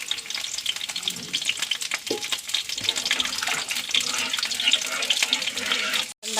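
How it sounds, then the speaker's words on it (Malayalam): Tamarind water poured into simmering sambar gives a continuous splashing, sizzling wash of liquid, close and fairly even, with faint scraping of a utensil. "പുളിവെള്ളം ഒഴിക്കാം."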